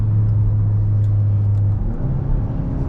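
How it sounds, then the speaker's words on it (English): A Hyundai Sonata N Line with a dual-clutch gearbox drones steadily from inside the cabin, then a quick downshift lifts the engine note into a brief rev before it holds again. "this dual clutch, I'll try to show you here when I downshift."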